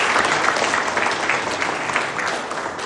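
Sustained applause from an audience at a Democratic Party members' day gathering in a Jeju conference hall, honouring members of parliament, steady and dense clapping for about three seconds with faint crowd murmur.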